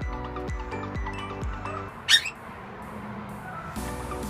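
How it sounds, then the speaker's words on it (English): A princess parrot crossed with a superb parrot in an Australian aviary gives a run of five or so repeated, falling calls, then a single sharp squawk, followed by quiet background. "princess parrot cross between a superb parrot"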